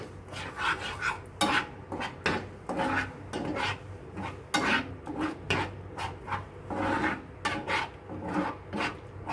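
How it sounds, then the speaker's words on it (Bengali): Butter, garlic and eggs with chilli flakes are stirred in a pan with repeated close scraping and rubbing strokes of a utensil against the metal, in a steady irregular rhythm with no talk. "দিয়ে এটাকে ভালো করে একটু মিক্সড করে নিচ্ছি।"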